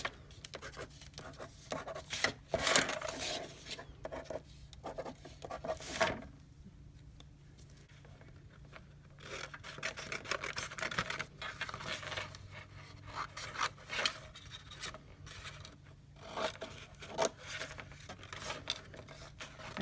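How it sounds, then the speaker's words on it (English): Scissors cutting a paper tab for a 3D magic castle craft, soft close snips and papery rubbing in short irregular bursts, quiet and without talk. "And then we're going to cut just one tab."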